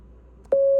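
A single steady Morse code tone sounds for the letter B, a clean electronic beep holding for about a third of a second after a short click, alone and loud.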